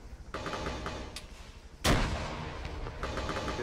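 Gunfire from the video game Arma 3 in a King of the Hill urban firefight: a few scattered, moderately distant shots, then one loud sharp blast with a rumbling tail, followed by quieter reports.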